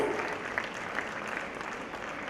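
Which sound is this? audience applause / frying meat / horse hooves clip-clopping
audience applause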